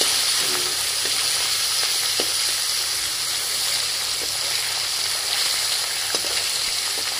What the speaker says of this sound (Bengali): মাছগুলোকে তেলে ফেলে এটাকে এইরকম উলট পালট করে দিতে হবে